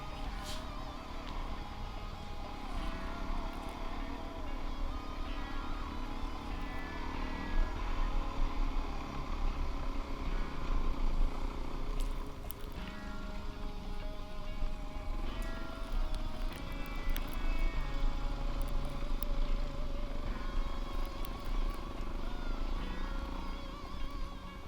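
A dirt bike carrying a license plate rides a Glade Park trail. Its engine drones steadily and fairly loud throughout, with rising and falling revs over rough ground and no voices.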